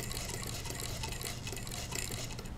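A Singer Model 20 vintage toy chain-stitch sewing machine stitching fabric, its rotating hook giving a steady, fast mechanical whirring and clattering that runs continuously at close range.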